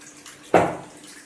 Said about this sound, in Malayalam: പിന്നെ നമ്മൾ ലേശം ശർക്കരപ്പാനിയും കൂടി ഇതിലേക്ക് ഒഴിക്കും.